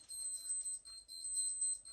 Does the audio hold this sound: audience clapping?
no